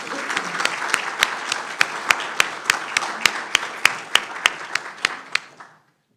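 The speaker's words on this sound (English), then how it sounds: "Please join me in giving a round of applause to both candidates." A small audience at a county candidates' forum claps together for several seconds, individual claps growing distinct toward the end before fading out.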